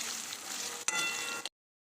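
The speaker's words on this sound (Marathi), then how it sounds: "आता टमाटर कांदा चांगलं शिजू द्या" Tomatoes and onions cook in a pan for egg bhurji, a close hissing sizzle with one sharp stir or tap midway, then cutting off abruptly after about a second and a half.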